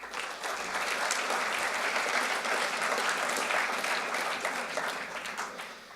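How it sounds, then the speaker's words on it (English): An audience at a business summit at the Beaux-Arts applauds steadily for Neelie Kroes, a dense, sustained wash of clapping from many hands lasting the whole span at even strength, tapering a little at the end. "let's make an applause to Neelie Kroes for the work she did in the last 5 years."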